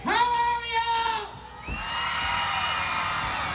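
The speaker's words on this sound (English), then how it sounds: "I want to hear the biggest cheer." A crowd cheering and whooping at an outdoor Christmas light switch-on, with a raised voice at the start giving way to sustained, fairly distant massed cheering.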